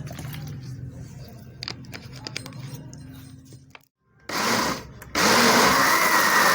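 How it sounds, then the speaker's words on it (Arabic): Guava pieces and water go into an electric blender. Clinks and handling noises come first, then the motor starts in bursts and settles into a loud, steady whirring roar that is heard alone. "هحطها بقى في الخلاط"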